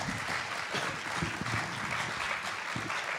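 An audience applauds at a 36th General Assembly District debate, a steady wash of clapping filling the room for a few seconds, fairly close and even throughout.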